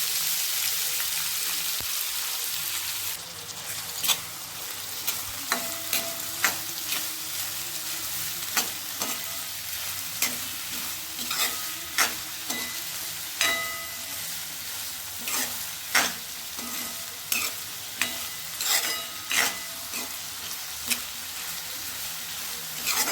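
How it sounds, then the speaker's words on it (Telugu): Finely chopped onions sizzle and fry in a pan for a fish pulusu curry, a steady close hiss with repeated soft stirring scrapes throughout. "ఇప్పుడు ఉల్లిగడ్డలు వేసుకుంటాను. చిన్నగా తరిగి పెట్టుకున్నాను నేను."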